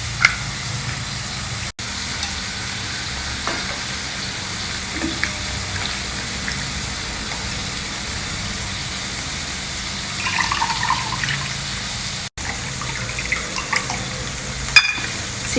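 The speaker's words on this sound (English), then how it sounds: "let's extract the juice from the tamarind" Tamarind is squeezed by hand in a bowl of water to extract its juice, giving soft, steady wet squishing and dripping sounds close by, with a few small clicks and no talking.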